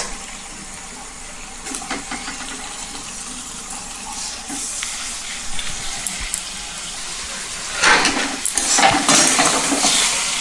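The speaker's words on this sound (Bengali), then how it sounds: "আমি মশলার সঙ্গে লোটে মাছটা একটু মিশিয়ে দেব।" Bombay duck fish stirred into a spice paste of ginger and garlic in a pan over medium-low heat: soft scraping and clinking of a spatula against the pan over a low frying hiss, growing louder toward the end.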